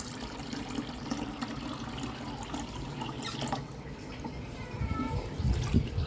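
Water being poured out for kittens during a morning routine makes a faint, continuous trickle and splash, with drips and a louder gush near the end, recorded quietly indoors.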